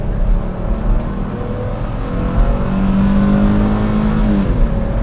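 A V6 Ford Transit racing van, rear-wheel drive, accelerates hard with a loud, close engine drone that climbs in pitch, then drops through a quick downshift before rising again; no voices.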